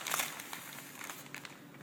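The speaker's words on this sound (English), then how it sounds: "Remove your paper bag." A brown paper bag lifted off a 6 mil polyurethane gown after heat-sealing with an iron, giving a short, close run of soft paper crinkles and crackles, faint and without speech.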